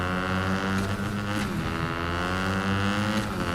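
Motorbike ridden in Fortnite chapter 4 season 1, a steady buzzing engine drone holding a constant pitch with brief bursts of added noise, loud and continuous with no talk.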